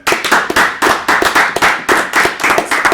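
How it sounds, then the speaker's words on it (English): A small group claps for Yasin in a podcast room, with steady rhythmic hand claps in quick even bursts, close and loud, with no talk over them. "we should give Yasin a big round of applause"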